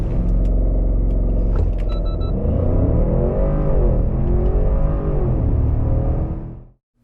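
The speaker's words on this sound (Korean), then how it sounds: "그럼 발진 가속 성능은 얼마나 나왔는지 볼까요?" A 2022 Land Rover Range Rover P530 launches from standstill in a loud, continuous engine roar that climbs steadily in pitch through the gears, then cuts off abruptly.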